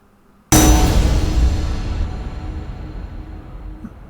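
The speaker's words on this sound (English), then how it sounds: "So that's it, that's the anvil." Layered anvil hit, a metallic clang backed by an orchestral ensemble swell, in a spaghetti western style: one sharp loud strike that rings out and slowly decays.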